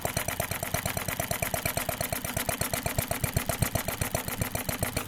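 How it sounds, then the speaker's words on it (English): A small live steam model engine runs at a rapid, even chuff, a fast mechanical beat repeating many times per second, close and steady without voices. "regulator lets me run the engine really slowly, or I can open it up, and it runs faster."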